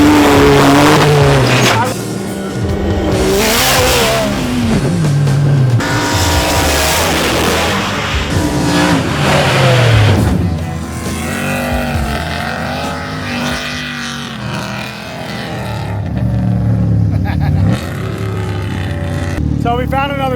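An off-road vehicle races across sand dunes, its engine roaring loud and steady with rising and falling revs, wind rush throughout, and a voice talking over it.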